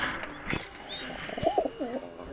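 Pigeons coo up close in soft, low, rolling bursts, alongside a few wing flutters or knocks and light background noise.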